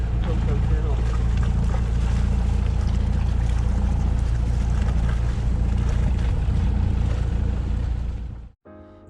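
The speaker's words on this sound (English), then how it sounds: "We've got a long upwind motor now, about an hour probably" A sailboat motors upwind in about 20 knots of wind near Beef Island in the BVI, a loud continuous engine drone and rushing wind roar that cuts out abruptly near the end.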